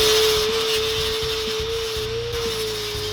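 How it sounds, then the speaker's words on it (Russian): An angle grinder fitted with a 40-grit flap disc sands a wooden bird feeder, a loud steady whining drone holding one pitch under a coarse rasping grind, running continuously and close throughout. "Это просто болгаркой с лепестковым кругом, зернистость 40."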